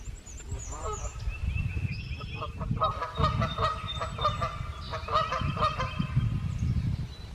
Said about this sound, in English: And there's all the geese.